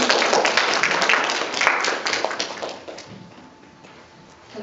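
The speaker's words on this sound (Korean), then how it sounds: "박수로 환영하겠습니다" Audience applause welcoming speakers at a children's 'My Dream' speaking contest, a dense burst of clapping from a hall crowd that is loud at first and gradually thins and fades toward the end.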